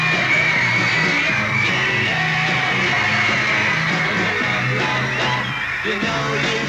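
A crowd of Beatles fans at a film premiere screams and yells nonstop, a dense, loud wall of shrieking voices that holds steady throughout.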